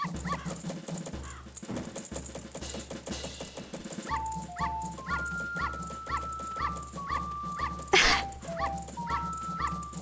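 A dog in the Zelda Majora's Mask video game, barking and whimpering in short repeated yips over a steady game music loop, with a brief louder burst near the end.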